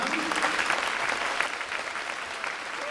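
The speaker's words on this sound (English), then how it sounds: "Let's have a nice round of applause for them." Brief burst of audience applause at a school spring concert, a dense even patter of many hands clapping at a steady level throughout.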